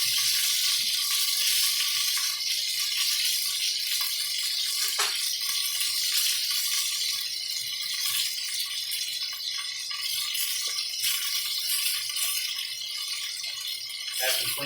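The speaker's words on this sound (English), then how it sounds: "Add some clean soapy water." Water runs steadily from a tap while a pan used for cooking garlic, onions and apples is rinsed with soapy water, a loud continuous hiss with a few faint knocks and rattles.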